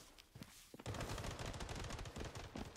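Rapid automatic gunfire in the video game Blood Strike, a sustained fast-rhythm burst that starts after a few scattered shots, close and dense, with no speech.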